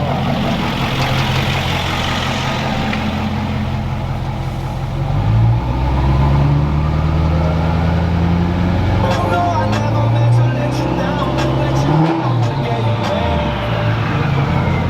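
A Duramax diesel pickup truck with a loud aftermarket exhaust idles and then revs, a heavy low rumble that swells partway through, while people talk nearby.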